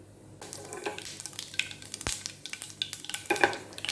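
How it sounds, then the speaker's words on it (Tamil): Mustard seeds, with urad dal and cumin, crackle and pop rapidly in hot oil for a spicy chutney, a busy close sizzle with scattered sharp spits and a single metallic clink. "கடுகு நல்லா வெடிக்குது."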